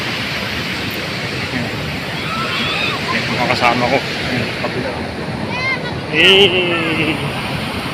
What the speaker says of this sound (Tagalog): Masyadong malakas yung alon dito sa part ng ng Bagaspas Beach